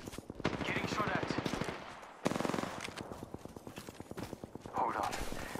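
Automatic gunfire in Apex Legends on the World's Edge map: rapid, steady rattling bursts with a brief break in the middle, loud and close, with a voice speaking over part of it.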